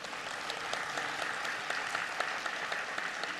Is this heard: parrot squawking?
no